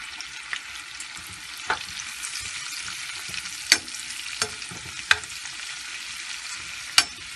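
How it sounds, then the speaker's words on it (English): Pre-cooked shrimp frying lightly in a pan for biryani, a gentle steady sizzle punctuated by occasional sharp spatula clicks and taps. "I'm going to just fry them"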